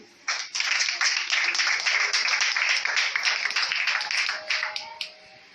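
A church congregation claps together to acclaim the Lord, a dense, lively burst of many hands that starts abruptly and holds steady for several seconds before thinning out, with a faint sustained tone near the end.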